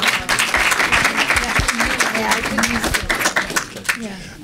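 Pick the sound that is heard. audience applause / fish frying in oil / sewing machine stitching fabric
audience applause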